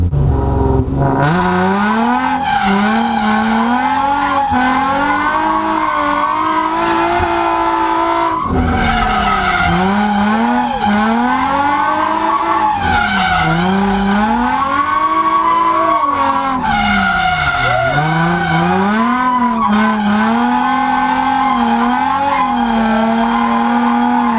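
A car drifting on a track with the handbrake, tires skidding and squealing in long sweeping wails over a loud revving engine that rises and falls repeatedly, near and continuous, with no talk.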